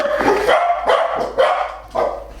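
Several dogs bark in short bursts in a home kitchen, four or five loud, close yaps spaced about half a second apart with no talk over them.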